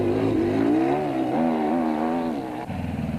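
A Raceco single-seater race car engine at the Roof of Africa rally drones steadily, revving up and down with a buzzy rising and falling tone, then shifts to a rougher idle near the end, close and alone.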